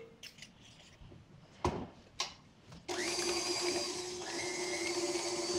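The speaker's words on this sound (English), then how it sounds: "Now I'm beating this until I don't see any chunks of butter" An electric mixer beating butter for peanut butter and jelly cupcake frosting starts up with a steady whirring hum after a few clicks and clunks, running close and continuous.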